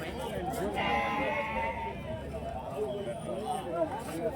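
Goats bleating at a busy livestock market in Karimangalam, Dharmapuri district, several calls rising over a steady crowd murmur and nearby chatter.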